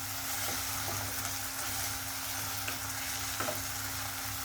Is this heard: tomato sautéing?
yes